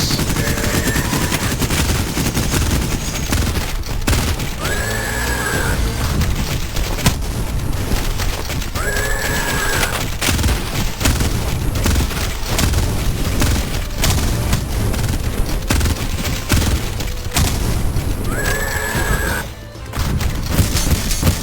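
Gunfire and explosions in the video game Cultic, a relentless barrage of shotgun blasts and booming mortar impacts layered over each other, loud and dense throughout, with recurring higher pickup or effect tones cutting in periodically.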